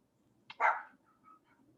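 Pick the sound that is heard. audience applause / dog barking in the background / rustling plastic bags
dog barking in the background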